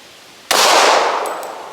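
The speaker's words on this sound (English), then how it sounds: "The second test is going to be done with a 40 caliber Glock." A single sharp shot from a .40 caliber Glock pistol with a short barrel, fired close during a Krav Maga gun takeaway drill, followed by a brief metallic ring as the sound decays.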